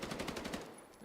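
A quick gunshot burst during a competitive Blitzkrieg video game match, several rapid reports in a row for about half a second before fading into quiet background noise.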